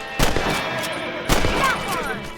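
Gunfire in the video game Red Dead Redemption during a rabbit hunt: two loud rifle shots, each cracking sharply and rolling into a long echoing tail over a steady ambient hum.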